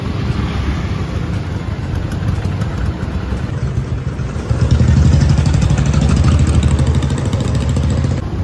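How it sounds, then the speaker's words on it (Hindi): A scooty (small scooter) engine is started on a street in Jammu during Choti Diwali, then settles into a steady, close idle, growing louder about halfway through and running on without a pause. "तो मैं स्कूटी स्टार्ट कर लेती हूँ।"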